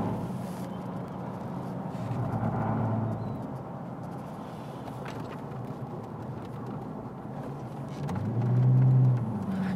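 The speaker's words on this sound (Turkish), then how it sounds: "İşte bu motor sesi de her şeye bedel" A Ford Crown Victoria with a traditional V8 drives along, its engine a steady, continuous drone that swells slightly near the start and again toward the end.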